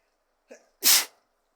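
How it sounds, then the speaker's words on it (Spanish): A single sneeze, close and loud: a short breathy intake, then a sharp explosive burst, heard alone with no talk around it. "Hace rato que quería estornudar"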